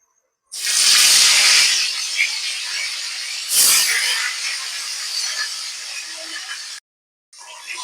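Pangas fish frying in hot oil hisses loudly, with a sharp surge at the start and another flare midway, then a steady sizzle that cuts out briefly before resuming.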